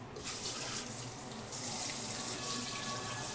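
Tap water runs steadily into a kitchen sink during rasgulla making, a continuous close hiss and gush with no talking.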